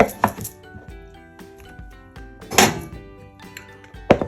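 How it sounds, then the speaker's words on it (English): Vegetables for homemade succotash are chopped on a board: a few scattered knife thunks, loud and close, with quieter handling noises between them. "All of our veggies are cut."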